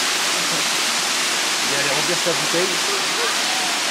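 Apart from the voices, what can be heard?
mountain waterfall in Kyrgyzstan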